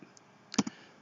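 A single soft mouse click opening a file on a computer, a quick faint double tick in a quiet room.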